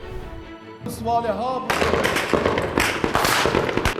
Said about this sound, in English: Gunshots aimed at politicians and then utter chaos.